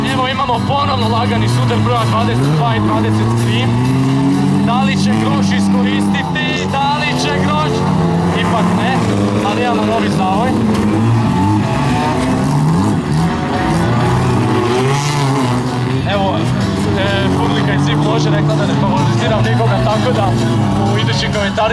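Autocross race cars roar continuously and loudly around a dirt track at Rugvica, engines revving and tires working, as cars 22 and 23 lightly collide; a commentator talks over the constant engine noise.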